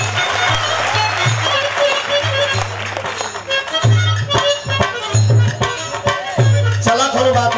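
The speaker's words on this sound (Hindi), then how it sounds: "एक बार जोरदार ताली बजा।" An audience claps loudly and continuously at a live Birha folk stage show, a dense sustained applause with music and crowd noise mixed in.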